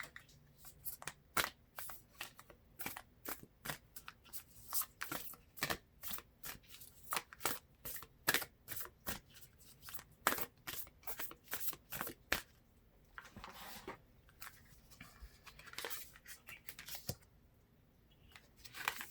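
Tarot cards shuffled by hand in quick bursts of crisp riffling slaps, close and dry, fast through the first twelve seconds and then sparser and softer, no voices.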